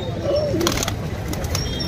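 Pigeons coo softly at a pigeon market selling high-flyer birds, a short, low, throaty call amid background market noise.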